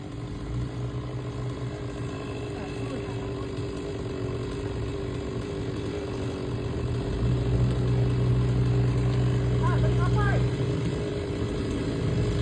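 A chainsaw cutting tree branches runs as a steady engine drone that swells louder for a few seconds partway through, with voices nearby.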